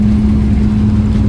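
Loud, steady roar of an airliner's jet engines in reverse thrust just after landing at Bangkok airport, heard from inside the cabin as a dense, continuous low drone with a constant hum and no voices.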